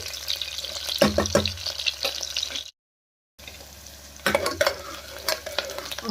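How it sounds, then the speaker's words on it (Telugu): Onions frying in a pan for a Telugu home lunch, a close, steady sizzle with clattering stirs, cut by a brief silent gap before the frying and stirring resume. "కొంచెం ఉల్లిగడ్డ అయితే ఫ్రై చేసుకున్నామండి"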